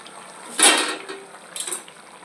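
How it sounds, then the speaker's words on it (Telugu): A lid clinks down onto a pot of Godavari-style koyyinga fish curry simmering with green chillies, one sharp metallic clatter followed by a softer second rattle, close by over a low simmering hiss with no talk. "ఇంకా మూత పెట్టేసుకుందాం."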